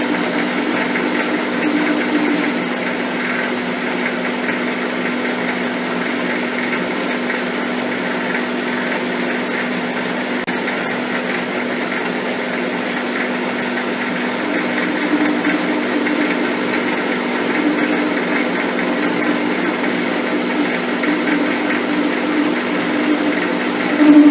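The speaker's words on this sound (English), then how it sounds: "We'll just slow the lathe down a tad." A steady mechanical hum of a metal lathe running continuously during taper turning, with a constant motor drone and faint rattling, no voices.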